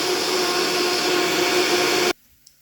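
A countertop blender runs on high, mixing a drink of Dr. Schulze's Intestinal Formula #2 powder with apple juice: a loud, steady motor whir for about two seconds that cuts off abruptly, followed by a faint click.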